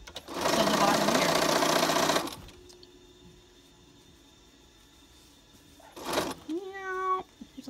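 Sewing machine running a seam along the bottom edge of a fabric face mask, a loud steady whir for about two seconds, then a short second burst after a quiet pause, with a person speaking in between.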